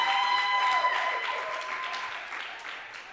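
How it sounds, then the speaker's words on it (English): A comedy-show audience applauds comedian Clive Chigubhu, a dense burst of clapping that starts strong and gradually thins and fades over a few seconds. "Another round of applause for Clive Chigubhu"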